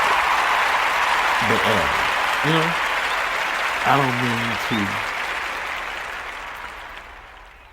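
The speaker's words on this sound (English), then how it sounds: "Can I get a hand clap or something?" An audience claps steadily at a talk about unity, a broad, even patter of many hands that slowly fades toward the end, while someone speaks briefly over it several times.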